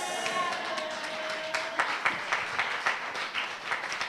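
Church congregation applause during a worship service, a dense wash of clapping with sharper individual claps, mixed with voices and a brief sustained tone.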